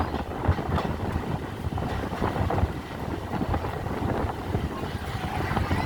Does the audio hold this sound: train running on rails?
yes